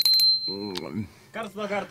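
A small bell rings with a bright, sustained metallic tone at the start, then a brief clink follows as people talk and sing over it.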